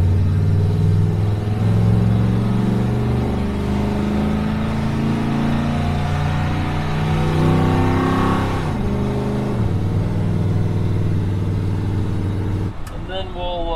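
A 1976 Ford F-150 with a swapped-in Ford Coyote V8 drives at about 55 mph, its engine droning steadily with shifts in pitch under road and wind noise, and a voice speaks over it.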